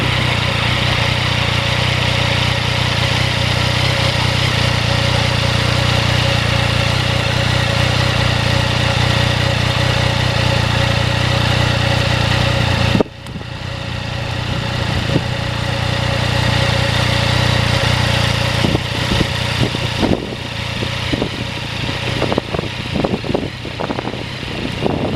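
2020 Yamaha MT-09 motorcycle riding on salty winter roads, giving a loud continuous engine drone with wind rush that breaks briefly midway, then resumes with rougher fluttering and scattered clicks.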